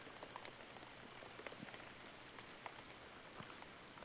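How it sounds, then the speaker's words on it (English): Steady rain patters on surfaces at a campsite in Stewart, a soft continuous wash with scattered sharper drops, fairly quiet and even throughout with no voices. "It hasn't stopped raining since I got here."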